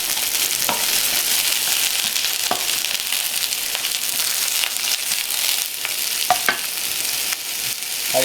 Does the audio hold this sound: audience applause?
no